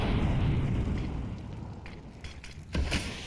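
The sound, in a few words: grenade explosion in Counter-Strike video game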